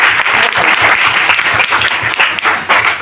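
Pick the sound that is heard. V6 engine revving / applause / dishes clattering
applause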